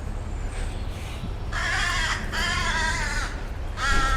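A crow caws several times in a Scottish churchyard graveyard, harsh raspy calls in short bursts against steady outdoor wind noise, fairly close and loud.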